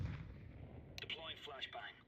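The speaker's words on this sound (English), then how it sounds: "Grenade." A grenade goes off in a video game shooter match: a low, muffled blast near the start, followed by a voice speaking over the game audio.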